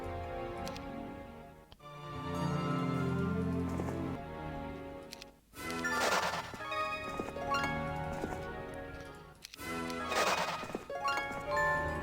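Horses in the video game Heroes of Might & Magic 3 sound in bursts of rhythmic clip-clop hoofbeats with jingling tack, set against a loud, full game music backdrop.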